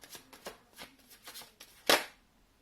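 Tarot cards being shuffled by hand, a series of soft papery riffles and taps ending in one louder crisp flutter, close and quiet with no voices.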